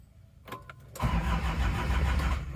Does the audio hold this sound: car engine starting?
yes